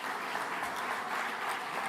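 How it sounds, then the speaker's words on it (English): Sustained crowd applause for Magen David Adom emergency personnel, a steady dense wash of clapping running without a break and without voices. "They all deserve a very big round of applause."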